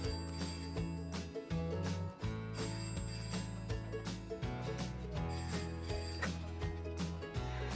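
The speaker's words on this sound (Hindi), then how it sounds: "फोन बज रहा है तुम्हारा, उठाओ।" An office telephone rings repeatedly in a steady electronic pattern over a backdrop of music in a scene from the 2014 film Bang Bang, loud and close with no talking.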